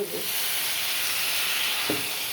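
Water splashed into a hot pan of Bengali home cooking gives a steady, loud sizzling hiss with steam, broken by two brief clattering touches near the start and end.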